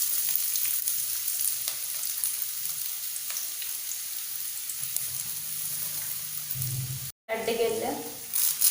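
Onion fries in oil in a pan with a steady, fairly close sizzle and crackle, broken briefly by a short silent gap before a brighter burst of frying near the end.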